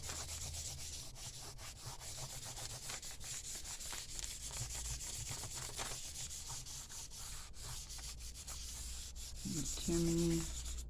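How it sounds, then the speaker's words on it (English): Chalk pastel is rubbed onto junk journal paper by hand, a soft, continuous scratchy rubbing heard close but faint, with a brief brighter scrape near the end. "because you're rubbing all the extra bits off"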